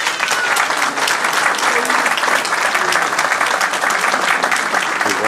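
Thunderous applause from a congregation at a memorial tribute service near Paris, a thick continuous roar of many hands clapping, steady and loud from start to finish.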